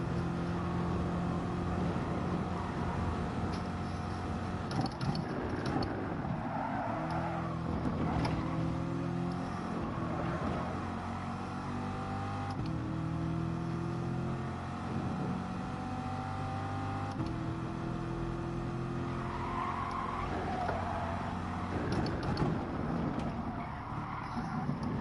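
Corvette race car in Gran Turismo Sport, its engine droning and shifting through steady revving harmonics with occasional tire squeal, continuous and fairly loud throughout with no talk.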